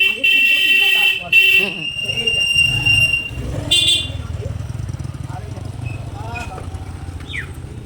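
Motorcycles pass over a bridge with engine drone and horn toots, while people talk nearby over the steady traffic.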